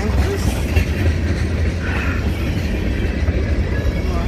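A CSX freight train hauling hopper cars rolls steadily past, a continuous heavy low rumble of wheels and cars holding at an even, loud level throughout.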